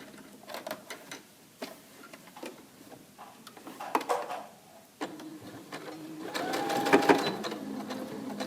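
A sewing machine stitches a fabric face mask in short, close bursts of rapid mechanical ticking, the last run longer and louder, with no talking.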